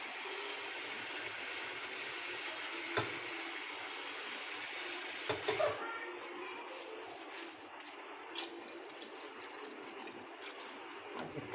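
Steady broadband rush of water pouring continuously into a cooking pot of rice, fairly close, with a few faint clinks partway through; no talking.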